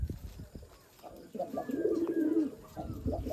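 A young adult male racing pigeon coos near a female, a few close, low throaty rolling coos that swell in the middle and trail off, with soft background noise around them.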